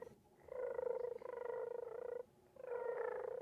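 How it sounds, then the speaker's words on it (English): Soft, rhythmic purring with a buzzy, pulsing texture, in two long stretches separated by a short pause, fairly quiet and close. "the purring is coming from over there"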